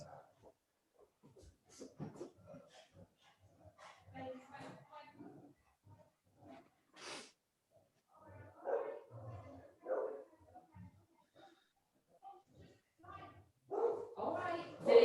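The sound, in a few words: dog barking at the door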